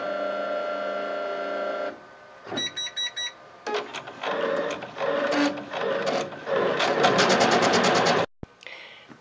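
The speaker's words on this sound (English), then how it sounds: "now I'm going to stitch the tack down stitch" An embroidery sewing machine stitches a tack-down stitch for an iron-on circle, a steady motor hum giving way to beeps and then fast rhythmic needle chatter that builds and stops abruptly, with no talk.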